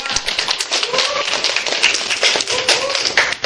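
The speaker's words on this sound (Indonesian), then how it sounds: "Beri tepuk tangan buat kelompok 2." A classroom group claps for group 2, a dense burst of close, rapid hand claps filling the whole stretch without pause.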